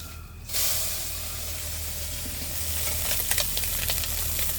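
Batch of fish frying in hot oil in a home kitchen, a loud, continuous close sizzle and hiss with spattering crackles, rising after a brief quiet start, no talk.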